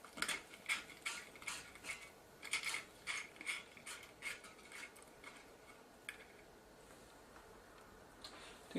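A screwdriver works a small screw out of a JVC GY-HD201E camcorder, giving a quiet series of light rhythmic metallic ticks and clicks, close and faint, tapering off toward the end.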